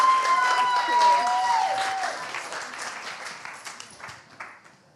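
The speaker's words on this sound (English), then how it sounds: "Would you please clap, cheer, go wild, welcome up Claire Seal!" An audience applauds and cheers to welcome a guest onto a live stage show, a dense burst of clapping that fades steadily over a few seconds.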